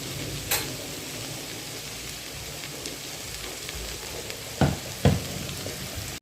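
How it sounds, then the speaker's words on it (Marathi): Brinjal and mixed vegetables fry in masala in a pan with a constant hiss and crackle, broken by a few spoon knocks and scrapes; no voices. "वांगी छान भाजले बघा दाखवते वांगी छान भाजल्या बघा"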